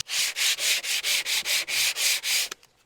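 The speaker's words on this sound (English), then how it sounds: "Where the edges have come off the saw, they're a little rough, so I'm just going to give it all a little sand down." Sandpaper rubbing the rough saw-cut edges of a wooden shelf by hand, about ten even back-and-forth strokes, close and loud, ending abruptly, with no voices.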